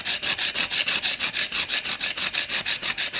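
A sharpening stone strokes back and forth over a single-bevel broadhead, an Annihilator, at 800 grit, making a steady, rapid rasping rub repeated about five times a second, close and alone.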